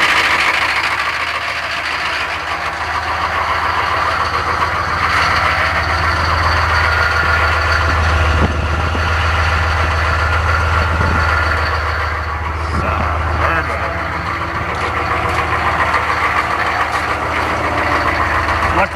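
A diesel truck engine, started after its glow plugs warm, runs at a steady loud idle with a deep low rumble throughout and a few knocks and rattles along the way.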